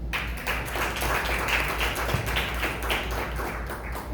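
A church congregation applauds during a Spanish-language sermon, with dense, steady clapping running throughout at an even level over a low background hum.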